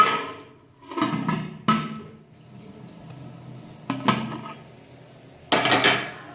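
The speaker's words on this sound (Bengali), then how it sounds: "ওটা দেওয়ার পর আমি আবার হাঁড়িটা ঢেকে দিয়েছি" Metal clanks from a cooking pot being covered with its lid while making chicken biryani, several sharp separate knocks and clinks spaced over a few seconds in a quiet kitchen.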